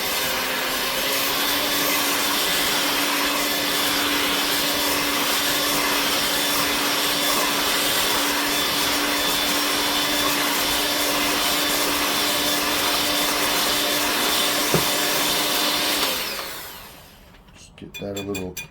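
An electric mixer whirs loudly and steadily for about sixteen seconds while whipping egg whites with sugar for homemade eggnog, then winds down and stops, leaving some brief clattering.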